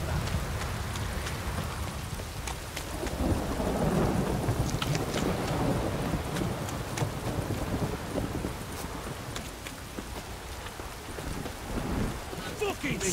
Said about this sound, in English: Downpour's a bastard, it is.